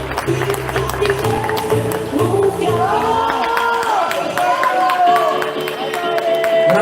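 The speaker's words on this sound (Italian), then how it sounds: "Un applauso a questa categoria" Audience applause for a category at a fitness and bodybuilding competition on stage at the MyGym trophy: a crowd claps and cheers with whoops and shouts, while a host's amplified voice carries over the noise.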